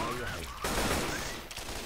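A rapid burst of gunfire from Left 4 Dead 2, loud and dense, cutting in sharply partway through and running on against a busy game background.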